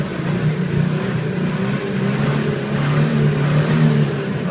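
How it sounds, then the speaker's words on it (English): The engine of a 1999 Ford E-250 long-wheelbase cargo van is revved in place. A loud, rough drone swells and eases in a couple of gentle surges, with no voices over it. "I'll rev it up for you."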